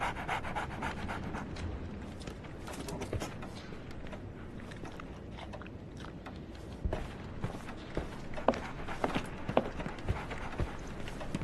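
A dog in the game Sherlock Holmes: The Awakened pants steadily and rapidly, breathy rhythmic huffs over a busy background, with a few sharper bumps later on.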